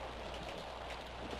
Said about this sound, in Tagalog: Hindi na ako lumalabas pag ganitong may bagyo.